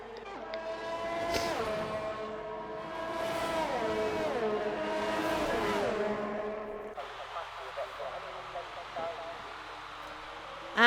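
Race car engines whine in a racing league video game at the USA Grand Prix on PS4, a Ferrari among them, with rising and falling high-pitched revving over a few seconds and an announcer talking over the top.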